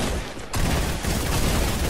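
Rapid, dense gunfire from a squad shooter video game rattles on continuously at close range and high volume, briefly dipping before resuming in a sustained burst.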